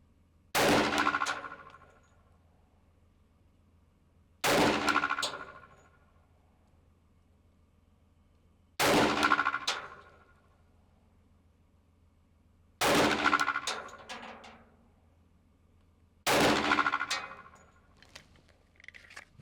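Five loud pistol shots from a Glock 20 SF Gen 3 10mm fired with hard cast loads at an outdoor range, spaced about four seconds apart, each a sharp crack with a short ringing decay over a low steady hum.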